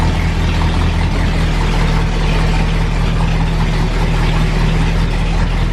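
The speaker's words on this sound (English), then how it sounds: "It's running and idling nice and smooth." A Chevrolet C10 pickup truck engine idles steadily with a low, even rumble, loud and close, with no break in the sound.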